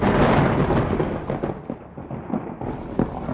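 A roaring hurricane with a constant rush of wind and rain, broken by rumbling thunder and scattered sharp cracks.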